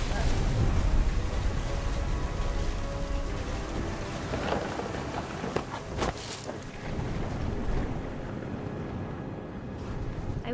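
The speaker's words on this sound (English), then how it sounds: "The thunder sounded much too close and full of angry power" Rain pours steadily in a stormy scene from the video game What Remains of Edith Finch, a dense wash of noise with sharp thunder cracks near the middle, loud at first and easing slightly.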